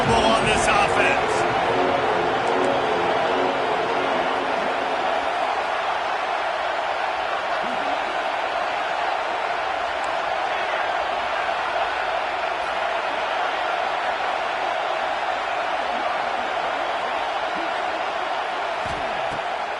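Stadium crowd at a football game on fourth down, a loud sustained roar filling the stands as the play unfolds, with a commentator talking over the steady noise.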